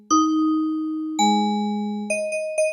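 Kawai K1 vintage digital synthesizer playing a few pure, bell-like tones: a low sustained note, a second note that rings on, then several quick higher chimes, close and clean with no voices.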